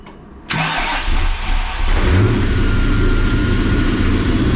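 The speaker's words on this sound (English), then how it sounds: "But he's going to show you this thing starts up pretty good" Ford Mustang SN95 drift car starting up: a brief starter crank, then the engine catches loudly and settles into a rough, heavy idle with a low throb, close by.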